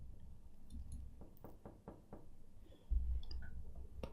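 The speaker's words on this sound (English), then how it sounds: "Amidst the panic, I hear a knocking sound through my apartment." Knocking on an apartment door in a video game: a run of several dull knocks in quick succession, moderately loud and close, followed by a heavier thump and a couple of clicks.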